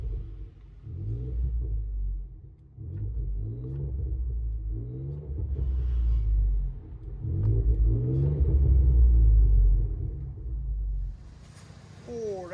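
A 2011 Ford F-150 EcoBoost V6 with straight-pipe exhaust heard from inside the cab in traffic, a deep rumbling drone that swells with repeated accelerations and eases off between them, with some talking.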